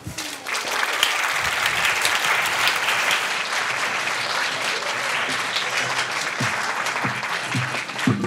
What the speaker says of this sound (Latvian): Ar sirsnīgiem aplausiem sagaidām Noru un viņas teātra klasi.